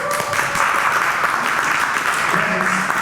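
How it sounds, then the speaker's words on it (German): An audience at a super 8 film festival event claps warmly to welcome a guest to the front, dense steady applause filling the room for a few seconds without any talk. "mit unserem Gast Joachim Schmidt, den ich unter einem herzlichen Applaus nach vorne bitten darf."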